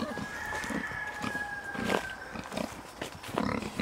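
Pigs are let out of their pen on a farm homestead, grunting and squealing up close in irregular bursts, while a rooster crows in the background.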